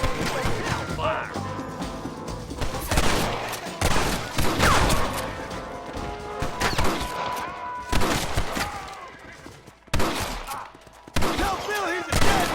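Gunfire in Red Dead Redemption during a shootout at a shack, repeated loud shots and volleys in bursts with shouting voices between them.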